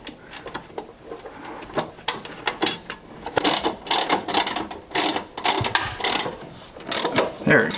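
Clicking, ratcheting mechanical sounds of a nylock nut with a plastic insert being tightened onto a washer beneath a school bus during a gray water tank install, irregular bursts close up, growing busier and louder toward the end.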